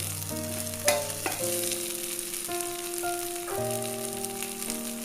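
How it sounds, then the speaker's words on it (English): Ginger and garlic pieces frying in hot oil for a bottle gourd gravy, a dense, bright, continuous sizzle heard up close with a few utensil knocks, while steady tonal background music plays and no one speaks. "The oil is hot, and now add ginger garlic pieces"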